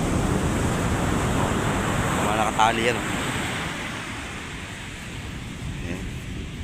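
Strong surf from Typhoon Kristine pounds the shore at Calintaan, a steady loud wash of waves mixed with wind buffeting the microphone, while someone speaks briefly over it.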